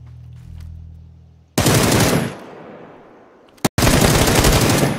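Video game gunfire: two loud, sustained bursts of rapid automatic shots at close range, separated by a sharp single crack and a brief lull.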